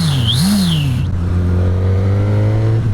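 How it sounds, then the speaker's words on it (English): The inline-four engine of a 2019 Suzuki GSX-S1000 motorcycle hums steadily and close while riding. Its pitch dips briefly and then holds a smooth drone, with a short chirp over the top. "The engine sounds pretty fantastic. It's got that typical inline 4 hum,"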